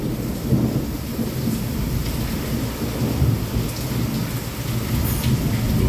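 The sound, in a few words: heavy rain with thunder during a thunderstorm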